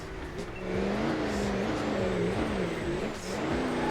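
Off-road car climbing a steep hill in BeamNG.drive, its engine droning steadily with a wavering pitch as it labours uphill, loud and continuous with faint tire noise and no talk.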